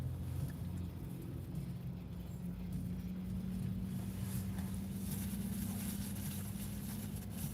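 A log truck passes on a cloudy November day in Michigan, heard as a low, steady engine rumble with a droning hum that holds fairly distant and quiet throughout.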